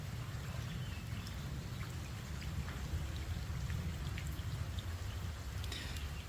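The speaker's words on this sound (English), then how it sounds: "Just to be able to listen to the rain." Steady rain falls in a continuous, even wash, with scattered drops ticking over a low rumbling bed of sound and no voices.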